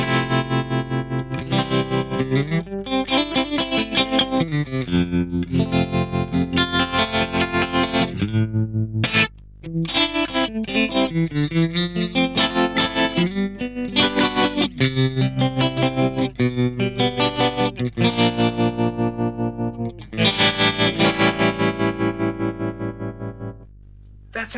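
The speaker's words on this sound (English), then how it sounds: "I love the trem in this." Guitar through a Zoom 9030 multi-effects unit set to tremolo, with distorted chords and notes pulsing rapidly in volume, loud and continuous with a couple of short gaps.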